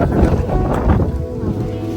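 Gusting wind and rain at an outdoor village crusade meeting in Mannar, a loud, constant rushing roar with wind buffeting the microphone throughout.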